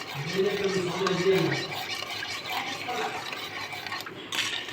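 Oil worked into a flour mixture for crispy biscuits, stirred in a bowl, gives a steady close scraping swish throughout, with a low hum in the first second or so.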